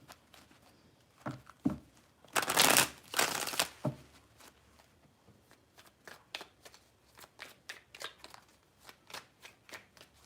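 Tarot cards being shuffled by hand, a burst of loud riffling in the middle followed by a series of lighter, rhythmic card taps and flicks, close and with no talking.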